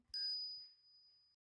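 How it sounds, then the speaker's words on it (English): A single bright bell ding, used as a subscribe-button sound effect, strikes sharply and rings out with a clear sustained tone that fades over about a second, alone in silence. "click bell button"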